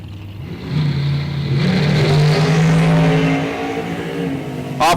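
A top dragster engine revs loudly at a drag race launch, a rising roar that holds and then fades slightly, close and powerful.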